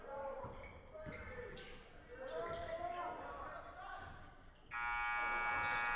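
A loud, steady buzzer ends a high school basketball game, cutting through crowd noise, squeaking shoes and excited play-by-play commentary as a three-point shot misses.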